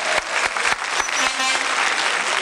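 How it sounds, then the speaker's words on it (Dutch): A studio audience applauds a duo of contestants on a Belgian TV game show, a dense, steady clapping that fills the room without a break for the full stretch. "Kom aan, een applaus voor dit duo."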